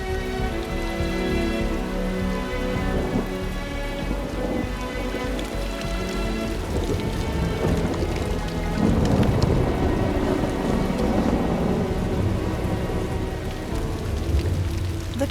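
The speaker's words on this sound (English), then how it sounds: "the rains have come" Heavy rain pours steadily in a thunderstorm in the African wild where cheetahs and hyenas live, with dense drumming on surfaces and rolling thunder swelling loud through the middle. No voices.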